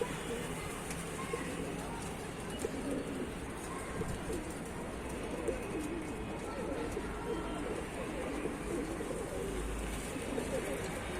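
A flock of pigeons kept for sale in Tanta coos continuously in a loft, a dense murmur of overlapping low coos close by, with faint background noise and no clear talk.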